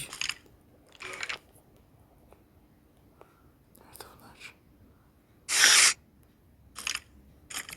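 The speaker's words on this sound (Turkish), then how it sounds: "Kıtır kıtır sesler geliyor." Several short, sharp crunching bursts in Minecraft scattered through a quiet stretch, one louder and longer than the rest, with faint whispery breaths between.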